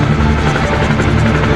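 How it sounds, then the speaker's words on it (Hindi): A helicopter flies close by in Sri Lanka, its rotor throbbing in a loud, steady rhythmic beat over an engine drone for the whole short stretch. "आगे का रास्ता हमें हेलीकॉप्टर से ट्रैवल करना पड़ेगा"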